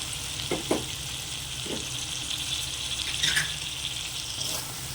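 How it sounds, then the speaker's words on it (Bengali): Ground melon seed paste frying into an ivy gourd masala, a moderate steady sizzle with a couple of soft stirring knocks early on and a brief clatter midway. "এবার আমি দিয়ে দেবো যে চাল মগজ বেটে রেখেছিলাম, তো ওইটা ওই বাটাটাই আমি দিয়ে দেবো"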